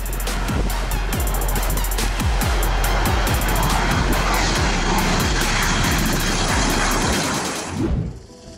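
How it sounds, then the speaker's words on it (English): A powerful aircraft engine roars loudly and continuously, a broad rushing noise that holds steady before dropping away abruptly at the end. "The old runway couldn't handle the power of the jet engine."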